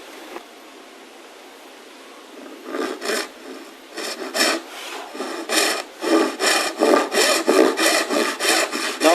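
A steel blade used like a file scrapes across wood during hidden box construction for a bombe secretary, starting after a quiet moment and building into a steady series of rhythmic rasping strokes, close and fairly loud, with no talking.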